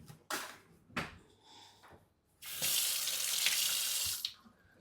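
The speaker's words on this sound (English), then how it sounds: "Wash my hands." Hands washed under a running kitchen tap at the sink: a couple of knocks and clicks, then a steady close rush of water for about two seconds that cuts off sharply.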